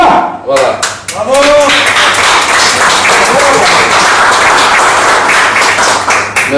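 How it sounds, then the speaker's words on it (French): Loud, sustained applause from a village gathering in honour of Félix, a dense wash of many hands clapping that starts after a brief burst of voices and carries steadily to the end. "tenez un applaudissement pour Félix"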